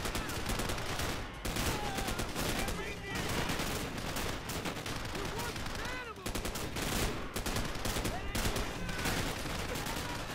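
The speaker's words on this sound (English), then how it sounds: "I'm getting shot from everywhere" Heavy gunfire in the World at War campaign with a modern weapons mod, dense overlapping automatic bursts and shots rattling loudly throughout, with brief spoken voices mixed in.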